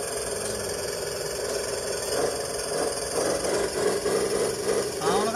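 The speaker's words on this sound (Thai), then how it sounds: "เดี๋ยวเราสตาร์ท6ล้อแป๊บนะครับ" A mid-pitched diesel engine of a six-wheel truck stuck in mud starts and chugs and rattles steadily, its rumble growing slightly rougher and louder toward the end, heard close with no speech.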